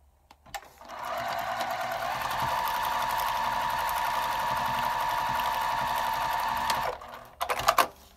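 A sewing machine runs in one steady, continuous burst of stitching as paper-pieced quilt block sections are sewn together, then stops with a few quick clicks and rattles at the end.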